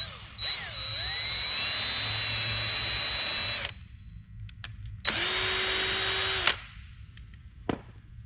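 A power drill pre-drills the sides of a river coffee table form in two long whining bursts, each spinning up and stopping, with a few short clicks and knocks between them, close and without speech.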